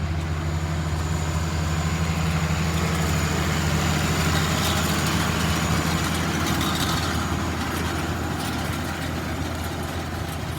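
A tractor pulls a 485 H&S 10-wheel hay rake during hay making for baleage, its engine a steady, loud, continuous drone that runs the whole time with no talking.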